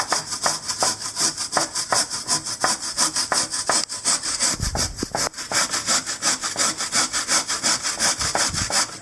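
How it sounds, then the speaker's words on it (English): A carrot rubbed against a fine kitchen grater in quick, steady back-and-forth strokes, giving close, even rasping with no talk. "We get our carrot, then we just go grate the carrot."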